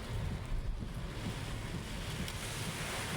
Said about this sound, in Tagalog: Grabe lakas ng hangin at saka ulan.